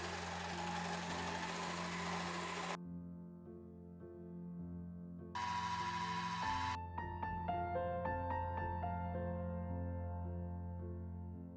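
Sewing machine stitching trousers, a close mechanical hum and rattle with the run of stitches broken by brief pauses, no talk.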